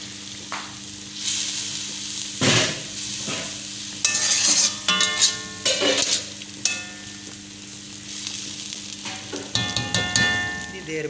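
Tomato paste sizzles and fries in a chicken karahi pan, a spoon stirring and scraping in bursts over a continuous close hiss, with no talking.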